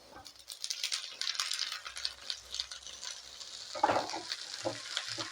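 Drumstick leaves dropped into a pan of onion and garlic frying with green chilli, then stirred, giving a steady sizzle with scraping and clinking of the spoon against the pan, heard up close without talk.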